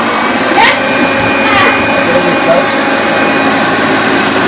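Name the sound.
1977 Hoover Junior Deluxe vacuum cleaner running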